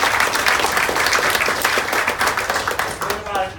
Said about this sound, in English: Can we give Felicia a round of applause?